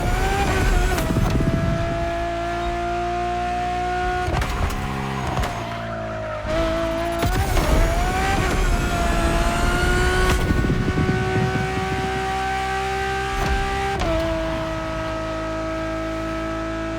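A Ferrari Enzo in The Crew Motorfest video game screams along with a loud, close engine note that rises and falls through gear changes, with tire squeal and skidding mixed in.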